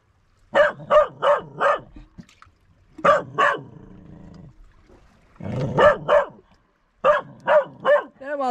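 A dog barks in quick bursts of three or four, loud and near, on the Whitehead cliff path in County Antrim, with a person's voice talking between the barks.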